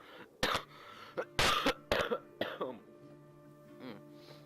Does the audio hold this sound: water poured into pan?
no